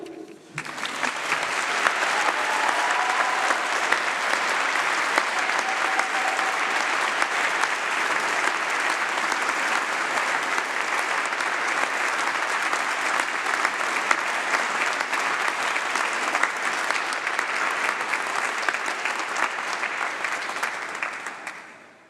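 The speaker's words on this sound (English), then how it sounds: "Huge round of applause again for Rachel Baker" Sustained, dense audience applause fills a university winter congregation ceremony hall, steady and loud throughout with no break.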